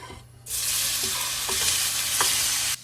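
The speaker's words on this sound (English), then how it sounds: "So I'm just gonna add some neutral oil to my pan. There we go. Then I'll add in my tofu." Tofu hits hot neutral oil in a pan and erupts into a loud, steady sizzle and crackle, close up and continuous for a couple of seconds before cutting off abruptly.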